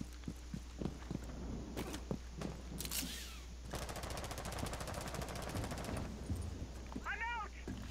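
Automatic gunfire in Rainbow Six Siege during a team deathmatch: scattered single shots, then a long rapid burst, mixed with footsteps and game effects, with a meow-like cry near the end.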